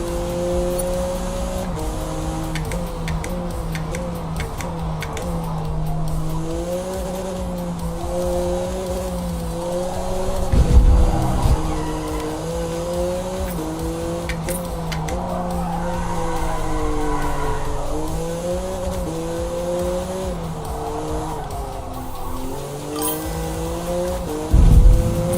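A race car in the driving game Forza Motorsport, played with a wheel, holds a steady engine drone that rises and falls through gear changes. Tires squeal repeatedly through corners, with a couple of louder bumps near the middle and end.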